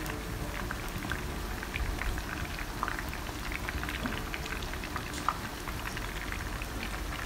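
Chicken pieces frying in hot oil, a soft, even bubbling crackle that holds steady and fairly faint throughout, with no voices.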